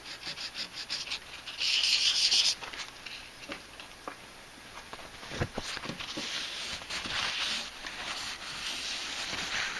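A fingernail scrapes stray paint out of a groove in the alligator-finish cabinet of a Hallicrafters SX-28A radio, giving short close rubbing scratches with one louder burst and no talking.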